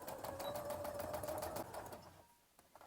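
A sewing machine runs steadily for about two seconds, stitching the back seam of a fabric Easter bunny's overalls, then stops and leaves a quiet pause with a few light clicks.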